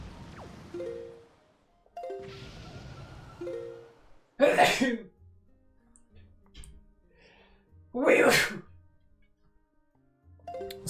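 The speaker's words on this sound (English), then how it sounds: "Also, I'm gonna sneeze." A person sneezes twice, each a sudden loud explosive burst, set between quieter stretches of video game music and chiming sound effects.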